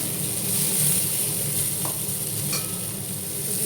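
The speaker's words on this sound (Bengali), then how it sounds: "ভেজে নিচ্ছি।" Bombay duck (lote fish) frying in a pan, a steady close hiss of oil sizzling throughout, with a faint scrape or two partway through and no talking.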